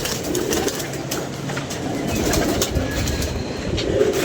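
Caught pigeons make soft coos within a dense, steady background hum and rumble that runs evenly throughout, with no voices heard.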